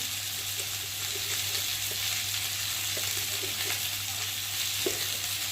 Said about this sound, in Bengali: মশলাটা দিয়ে সবজির সাথে ভালো করে কষিয়ে নেব